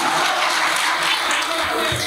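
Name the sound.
audience applause at mushaira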